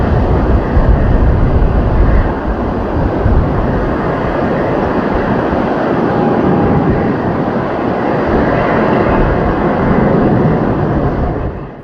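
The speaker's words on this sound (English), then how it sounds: "This Boeing 787 was taking off from Sydney, bound for Thailand" A Boeing 787 jet takes off from Sydney with a burst tire, producing a loud, steady broadband engine roar that holds for several seconds before easing off at the end.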